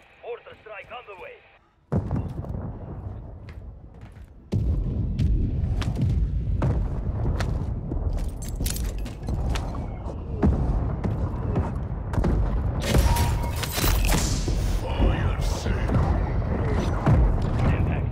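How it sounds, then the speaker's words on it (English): Mortar strike explosions from Call of Duty boom and thud loudly and densely after a brief quiet opening, with heavy impacts and crackling debris continuing throughout, along with voices. "Hostile mortar strike near your position."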